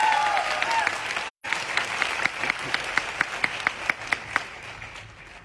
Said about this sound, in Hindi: तो एक बार तालियां जोरदार।